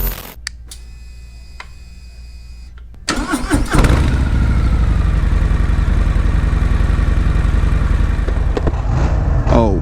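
A 2020 Harley-Davidson FXDR motorcycle engine starting: after a few faint clicks the starter cranks and the V-twin catches with a loud rumble, then settles into a steady, close, throbbing idle.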